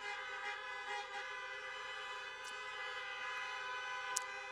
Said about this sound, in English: could you please honk your horn?